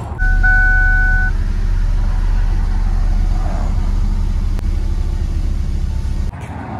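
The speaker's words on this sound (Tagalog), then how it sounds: "start natin siya, yung engine." A 2002 Ford Focus sedan's 2.0 engine idles steadily just after an oil change, a close, loud, even low rumble with a brief high tone at the start, cutting off near the end.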